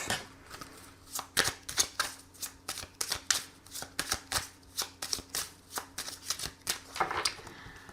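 Tarot cards being shuffled and cut, a steady run of crisp riffling bursts and soft slaps repeating about twice a second, close and clear with no talk.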